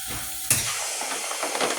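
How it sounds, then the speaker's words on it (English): A vacuum sealer's nitrogen flush lets out a sudden, steady gas hiss that starts abruptly and keeps going close by. "That's the nitrogen flush."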